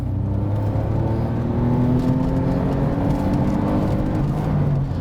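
A Smart Roadster Brabus accelerates hard while overtaking a quad bike, its small engine giving a steady droning rev and whir heard from inside the car, loud and continuous with road rumble beneath.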